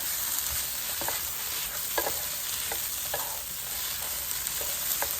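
Onions, celery and carrots fry for a sofrito in a pan, with a steady sizzle and occasional stirring scrapes and clicks, alone with no talk.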